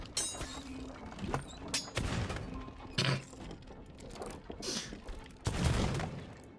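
Gunfire in the pirate game Sea of Thieves, with a run of sharp bursts and crashes at irregular intervals over creaking, clattering mechanical game sounds near the water.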